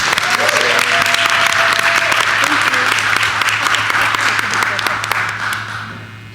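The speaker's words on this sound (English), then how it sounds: "may we give her a round of applause" Applause at a Board of Education meeting for a new student board member, a full room clapping loudly and steadily for several seconds with some voices mixed in, then thinning and fading toward the end.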